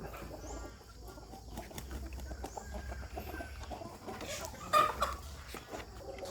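Burmese fighting chickens cluck intermittently in a farm pen during the rainy season, soft scattered calls amid low background noise and one brief louder call.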